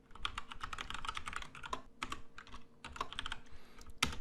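Close, fast typing on a computer keyboard comes in dense bursts of clicking keystrokes separated by short pauses, with no voice.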